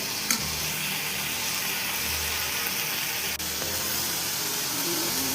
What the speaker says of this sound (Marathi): फास्ट गॅस करायचं जरा, म्हणजे कसं फास्ट वाटाणे कसे तडतड तडतड आले